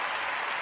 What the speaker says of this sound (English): Let's clap it up for income tax money, baby.